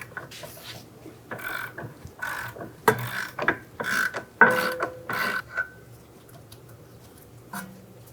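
A ratchet wrench with a 19mm socket loosens the rear shock absorber nut on a 2011-2014 Hyundai Sonata, giving several close bursts of rapid clicking separated by short pauses, then quiet.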